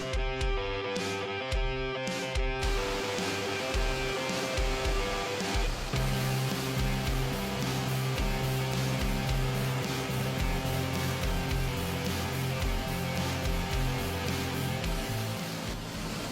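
The 13 Falls in DRT, Bulacan roars as a constant, loud, broadband rush of cascading water that fills the whole stretch, with tonal music running alongside it, most clearly in the opening seconds.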